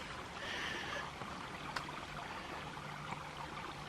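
Stream water runs steadily over rock outcroppings and small falls in Bankhead National Forest, Alabama, a continuous broadband wash with faint splashing, heard alone and moderately close.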